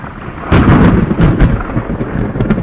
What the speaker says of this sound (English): Under a vicious lightning storm over western Mongolia